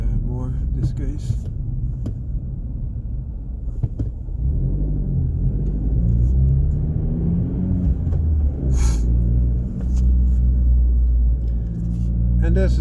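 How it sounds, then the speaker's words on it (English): A car engine revs in first gear, then shifts into second. A low, steady engine rumble runs under continuous talking, with a brief drop at the gear change. "First gear to the second gear, revving the first gear a little bit more in this case."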